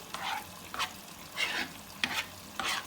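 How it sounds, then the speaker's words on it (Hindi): A spoon stirs instant khoya made from dry milk in a pan, giving five rhythmic scraping, sizzling strokes at roughly half-second to one-second intervals, close and fairly quiet, without speech. "इसको आप बराबर चम्मच चलाते रहें"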